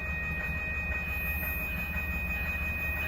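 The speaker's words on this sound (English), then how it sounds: "We have another MBTA commuter rail train to Greenbush." An MBTA commuter rail train on the Greenbush line passes at East Weymouth, Massachusetts, with a constant low rumble of rolling wheels and a thin high squeal held through the moment.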